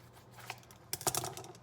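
Super sharp scissors snip open a mac and cheese packet: faint, quiet cuts followed by a short run of crisp snipping and crinkling, heard alone at close range.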